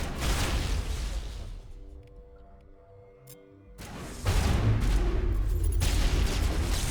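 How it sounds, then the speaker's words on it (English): Explosions boom in the sci-fi video game Mass Effect, a loud burst of blasts, a quieter stretch of ringing debris, then another heavy sustained roar of detonations. "There's too many explosions happening."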